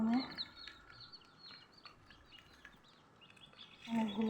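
Ten-day-old chicken chicks kept in a shed during extreme heat give a steady stream of faint, high chirps in the background, with a louder burst near the start and again at the end.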